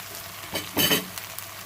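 Fish gravy simmering in oil with green chilies and ginger garlic paste, giving a soft, steady sizzle and a few brief stirring scrapes, fairly quiet and without talk.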